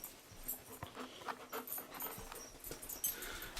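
A dog pants quickly and close by in a hot kitchen, short breathy huffs repeating in an uneven rhythm, fairly quiet with no speech.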